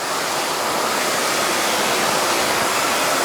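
Steady, close spray of water rinses shampoo off a car coated with Gtechniq protection, a dense unbroken hiss with no voices over it.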